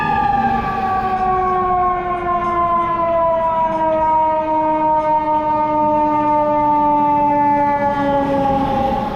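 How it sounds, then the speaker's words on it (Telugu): Fire engine sirens wail steadily and loudly as the trucks pass on a Chicago street behind a pilot car, their tones gliding slowly downward as they go by. "పైలట్ కార్ తర్వాత ఇప్పుడు ఫైర్ ఇంజన్స్ వెళ్తాయి"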